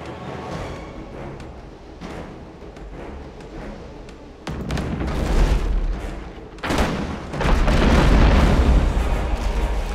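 Ship cannons fire in a naval battle in Abandon Ship, heavy booms and explosions breaking out in bursts that grow louder toward the end, with no voices.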